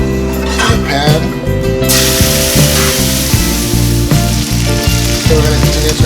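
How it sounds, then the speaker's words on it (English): Beans land in a hot pan and fry with a loud, steady sizzle and crackle, close up, while a person talks over the cooking. "So we're going to continue to add our beans."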